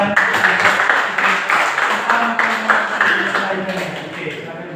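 A classroom group claps at a teacher's request, loud rhythmic hand clapping that fades slightly toward the end.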